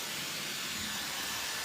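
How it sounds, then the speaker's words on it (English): Hair dryer switched to its fully cold setting with the diffuser attachment removed, giving a steady, close airy hiss and low motor hum that runs alone without pauses. "So now I'm turning my hairdryer to completely cold"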